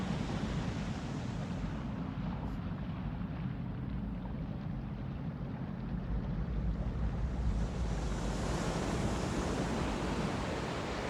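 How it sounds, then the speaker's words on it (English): A continuous roar of surf, broad and rushing, swelling again toward the end as waves wash in. No voices. "Do you think they really recorded the shore here"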